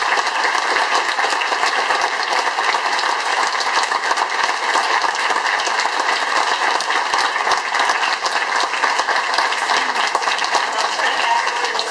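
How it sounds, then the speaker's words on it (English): Sustained audience applause at an education forum for the panel members, steady dense clapping from a room of people throughout. "I know we just gave them a well-deserved round of applause"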